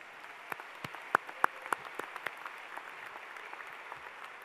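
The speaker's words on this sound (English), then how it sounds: "I think we should clap again for that." Scattered claps from a graduation audience at a high school ceremony, a few sharp distinct hand claps standing out over a faint, thin background wash of applause.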